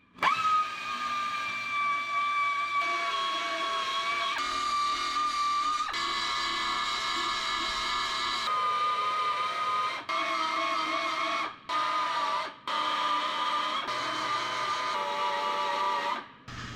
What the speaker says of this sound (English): I'll be removing all the spot welds holding the quarter panel skin on with a 3M belt sander with 50 grit.